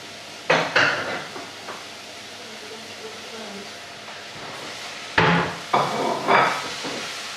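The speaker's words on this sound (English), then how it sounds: "just stir fry that around for a minute or two, but not too much now" Mixed peppers and mushrooms are stirred in a pan over a steady hiss, with two clusters of metallic scraping and clanking against a quiet background and a voice talking.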